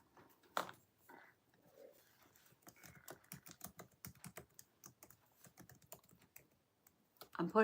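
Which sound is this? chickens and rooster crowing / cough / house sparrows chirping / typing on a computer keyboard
typing on a computer keyboard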